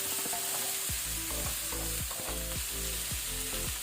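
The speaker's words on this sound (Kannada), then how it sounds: "ಇದನ್ನು ನಾವೀಗ ಒಗ್ಗರಣೆಯಲ್ಲಿ 2 ಮಿನಿಟ್ ಫ್ರೈ ಮಾಡ್ಕೊಳ್ಳುವ ಮೀಡಿಯಂ ಫ್ಲೇಮಲ್ಲಿ" Flat beans (chapparada avarekai) fry in an oil tempering over a medium flame, a steady close sizzle with repeated clinks and scrapes of a spoon stirring the pan.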